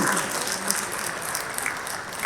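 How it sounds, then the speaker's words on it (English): Audience applause at a national tech industry summit awards event, a steady, moderately loud wash of clapping from a large crowd filling the whole moment. "Huge round of applause."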